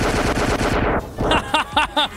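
A big gun fires in the VR combat game Gorn, about four quick, punchy bursts in the second half, following a sustained tonal hum at the start.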